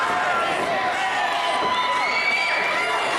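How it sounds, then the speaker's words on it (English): A wrestling crowd at a Battle Royal event roars and cheers continuously, a dense wall of shouting and whooping voices filling the space with no pauses. "Listen to this crowd cheer for Mackey"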